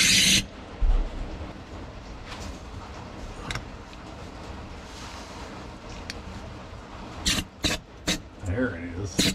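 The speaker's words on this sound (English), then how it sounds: "So I'm going to try to blow out cylinder 7 with an air compressor" An air compressor nozzle blasts air into cylinder 7 of a 454 big block boat engine, sending several loud, sharp hissing bursts, mostly toward the end, over a steady background noise.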